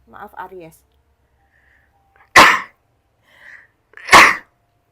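Two sharp, loud sneezes burst out a couple of seconds apart, following a brief stretch of soft speech at the start.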